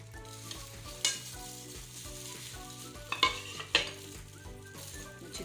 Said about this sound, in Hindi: अच्छी तरह मिक्स कर लेंगे।